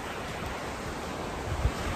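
Ocean waves wash onto the beach near Point Dume, a steady broadband rush of surf mixed with wind buffeting the microphone, with no voices.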